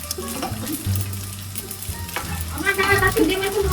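Eggs frying in a pan, a close steady sizzle with stirring and scraping and a few clinks of cookware.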